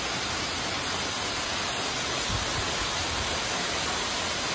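Steady, dense rush of a waterfall pouring without pause, a broad even roar filling the whole scene at close range with no voices.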